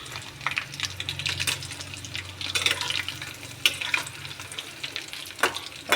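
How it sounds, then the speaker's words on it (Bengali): Chicken frying in a kadai with a steady crackling sizzle and occasional stirring clinks, close and continuous, with a low hum underneath. "এই যে চিকেন রান্না করছি, ভাজছি"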